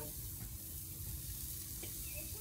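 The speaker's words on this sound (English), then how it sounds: "good when you hear the sizzle" Steady, close sizzling of a porterhouse steak searing on a hot grill, a continuous crackling hiss with no talking.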